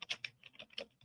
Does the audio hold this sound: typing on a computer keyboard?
yes